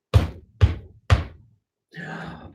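Three firm knocks on a wooden door, evenly spaced and close, followed by a brief rustling sound after a short pause.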